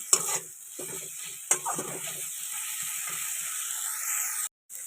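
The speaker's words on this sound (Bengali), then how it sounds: "এবারে মশলাটা ভাজা হয়ে গেছে" Spice masala frying in a pan for a fish curry is stirred, with a bright continuous sizzle and repeated scraping stir strokes up close, ending with a brief cutoff.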